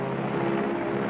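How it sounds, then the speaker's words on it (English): Steady, continuous drone of a bomber aircraft in flight heading toward a bomb test site, loud and even with a persistent engine hum and no speech. "Now the plane wings its way toward ground zero."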